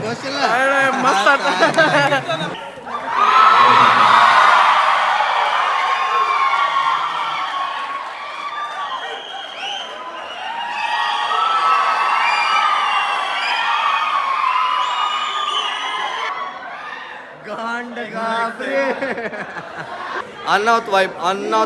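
An audience in Davanagere cheers and shouts at a birthday event, a loud crowd roar with laughter and chatter that swells, holds, then breaks into scattered voices.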